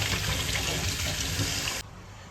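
A kitchen tap runs steadily and loudly over a bundle of fennel seeds and coriander being washed, a continuous close gush of water that cuts off abruptly near the end.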